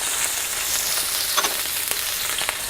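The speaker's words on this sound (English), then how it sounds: "we are going to stir fry the veggies" Peas and carrots stir-frying in hot oil for fried rice, a loud, close, dense sizzle with a few quick clicks of utensils tossing the vegetables.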